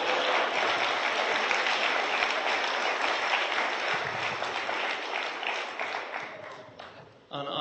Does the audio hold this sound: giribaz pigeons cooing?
no